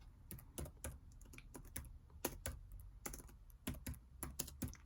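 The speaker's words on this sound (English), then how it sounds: "When the student type in the answer of calculus" An answer being typed on a computer keyboard, with quick, irregular key taps in close succession and clustered bursts, close and clear with no talking.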